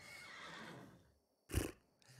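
A horse neighs loudly in the fantasy mercenary RPG Wartales, a short sharp whinny following a stretch of low ambient game sound and a quiet gap, with a faint snort or clop trailing after.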